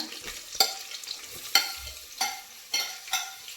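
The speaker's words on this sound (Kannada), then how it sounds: "ಈಗ ಹೆಚ್ಚಿಟ್ಕೊಂಡಿರೋ ಈರುಳ್ಳಿ ಮತ್ತು ಗ್ರೀನ್ ಚಿಲ್ಲಿ ಹಾಕ್ಕೊತಾ ಇದ್ದೀನಿ" Chopped onion and green chilli frying in a pan, a steady sizzle broken by repeated scraping stirs at irregular intervals, close and without talk.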